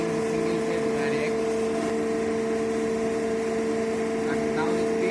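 An alternator in an electrical lab runs at 1500 rpm under capacitive and inductive load tests, giving a steady, continuous machine hum with a strong tonal whine at an even level throughout.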